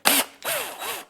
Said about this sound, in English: We'll start with this drill bit.